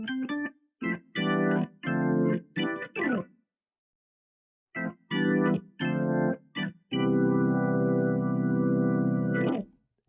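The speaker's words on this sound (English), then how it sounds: "I have an organ sound that just accentuates the chords for some additional texture" An organ plays short stabbed chords in a boom bap beat, a rhythmic pattern of clipped hits, a pause, then more stabs ending in one long sustained chord, played alone.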